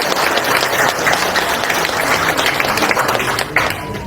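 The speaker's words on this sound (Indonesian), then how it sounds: "sekali lagi tepuk tangan untuk semua" Crowd at a political party declaration event for Partai Gerakan Rakyat applauding together, a thick, continuous clatter of many hands with crowd noise mixed in, loud and sustained throughout.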